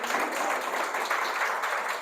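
A church congregation claps together during a Spanish-language worship service, a moderate, fairly even wash of many hands heard from across the room, slightly distant and without speech over it.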